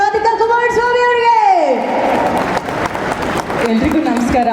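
Audience applause welcoming Radhika Kumaraswamy at a live event: a sustained gliding tone fades into a dense wash of clapping and crowd noise that fills the second half.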